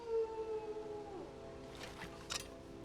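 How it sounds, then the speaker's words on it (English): Wolves howl in the Skyrim video game, a faint, drawn-out howl with falling pitch fading into quiet ambience, followed by a couple of soft distant thuds. "Gotta get ready, because I hear some wolves."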